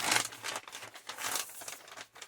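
A McDonald's paper bag being crinkled and handled up close, several quiet rustling bursts with short pauses between them.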